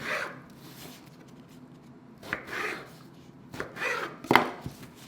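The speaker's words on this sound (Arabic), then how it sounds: "بدي بلش قطع البتنجان وجهزه للقلي" A kitchen knife chops eggplant on a board for Lebanese maghmour, a few soft separate cuts and thuds with quiet pauses between them.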